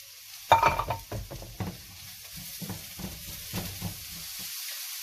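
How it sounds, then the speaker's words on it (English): Onions and peppers cut into strips sizzle and sauté in a hot pan, with a burst of frying at the start followed by repeated stirring and scraping strokes, moderately close, with no talking. "Now you want to cook this for about 2 or 3 minutes just so that the peppers can cook and the onions can colour a little bit."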